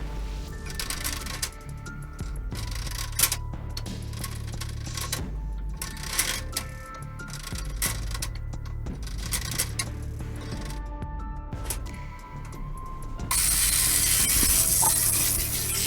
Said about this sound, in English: we're gonna put the spit in the motor